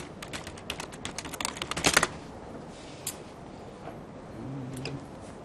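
Rapid clattering keystrokes on a computer keyboard, a dense burst of typing that builds and then thins to scattered taps, close and fairly quiet with no voices.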